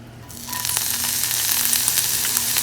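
Onions are dropped into hot peanut oil in an oven-safe sauté pan over medium heat, a quiet start that quickly swells into a loud, steady close sizzle with crackling pops.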